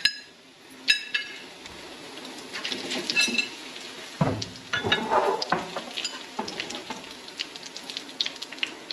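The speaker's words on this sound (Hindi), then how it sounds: "फ्लेम को हम बंद कर रहे हैं क्योंकि इसी ऑयल जो गर्म है इसी में ये चीज़ें फ्राई हो जाएंगी" Chilli, oregano, cumin and salt frying in hot oil in a pan with the flame off, a steady close crackling sizzle with occasional clinks and scrapes of a utensil, no talk.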